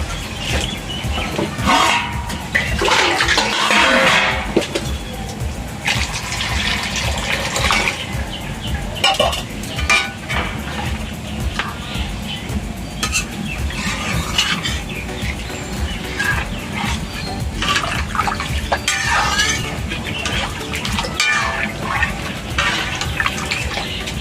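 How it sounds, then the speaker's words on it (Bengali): Water is poured into a cooking pot for mung dal with man kochu, making a splashy, gurgling rush up close, followed by faint clinks and kitchen shuffling. "এখন আমি পরিমাণ মতন জল দিয়ে দেবো।"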